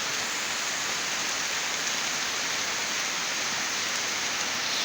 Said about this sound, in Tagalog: Yan, pag ganito na, ulan na, mukhang tatagal ito mag-stop pa kasi madilim pa yung langit.